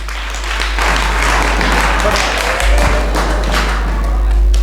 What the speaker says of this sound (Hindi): ताली बजाओ एक बार